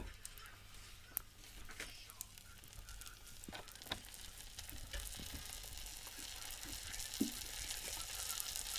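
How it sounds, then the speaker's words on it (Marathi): Oil sizzling in a frying pan while cooking a Konkan vegetable dish, a soft, steady hiss that rises slightly over several seconds, with a few faint clicks and small pops. "तर आता त्याच्यामध्ये तेल घालूया"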